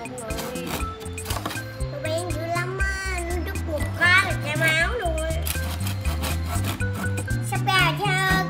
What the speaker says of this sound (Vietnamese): Và bây giờ mình sẽ cưa nó ra.